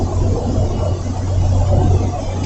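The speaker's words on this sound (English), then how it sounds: "Definitely lets in more traffic noise when I have them down" Traffic noise reaches the inside of a moving car with its windows rolled down: a steady, full road rumble with low engine drone, loud and continuous throughout, with no talking.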